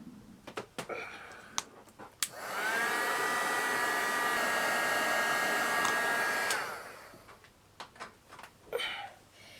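A hair dryer blows to dry paste on a miniature garden brick wall diorama, starting abruptly after a few clicks and handling knocks, holding a steady loud whirring whine for about four seconds, then cutting off into more clicks and light tapping.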